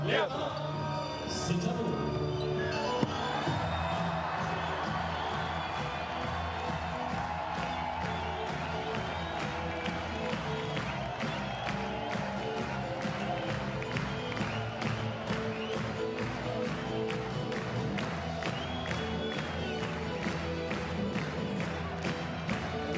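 An arena crowd at a France v Lithuania FIBA World Cup qualifier basketball game roars continuously, with steady rhythmic clapping running throughout and a few louder shouts near the start.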